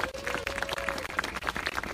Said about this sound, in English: Round of applause for our singers.